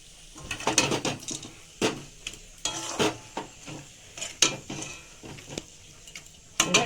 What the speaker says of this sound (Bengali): কচুর শাকটা দেখুন আমার হয়ে এসেছে এবার আমি এতে বাদাম ভাজাটা অ্যাড করলাম